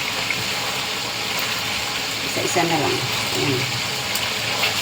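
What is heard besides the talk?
water pouring while washing dishes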